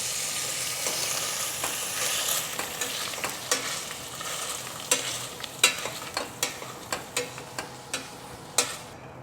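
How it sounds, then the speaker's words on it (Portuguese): Potatoes being mashed into purée in a hot pan over lowered heat, with a steady sizzling bed and a string of irregular soft knocks and scrapes from the masher against the pan, close up. "Vamos botar a batata agora e esmagar ela e fazer o purê."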